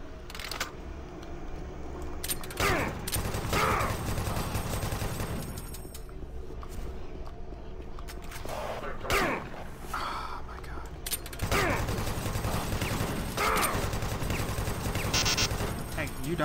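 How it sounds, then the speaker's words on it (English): Gunfire in the shooter game Doom 3, repeated bursts of rapid shots that break out in several separate clusters across the scene, set against a steady, dense game soundscape. "Die when I shoot you."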